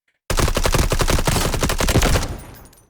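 A gun in the shooter game Delta Force fires a sustained automatic burst of sharp, evenly spaced close shots for about two seconds, then cuts off into a fading echo, with no talk.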